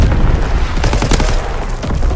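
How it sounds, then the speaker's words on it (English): Rapid mortar barrage in Call of Duty WWII, a dense cluster of loud overlapping blasts and thuds rolling one into another, close and heavy, with no talk over it. "Sending mortar round. Zone exclusion. Firing for full effect."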